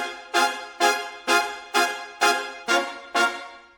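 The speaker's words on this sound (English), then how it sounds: "This is a brass section staccato, and this will play the offbeat." A brass section plays short staccato stabs on the offbeat for an electro swing track, seven bright, evenly spaced hits with sharp attacks and quick decays, clear and alone.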